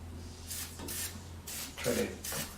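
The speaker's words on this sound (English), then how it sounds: "I'm going to spray some more." Lubricant sprayed from an aerosol can in short broadband hissing bursts, close and moderately loud, with a voice speaking briefly between them.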